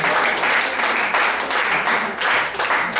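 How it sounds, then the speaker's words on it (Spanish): A church congregation gives loud, sustained applause during a sermon, dense clapping swelling and easing in waves across the whole stretch. "Dale un fuerte aplauso al Señor"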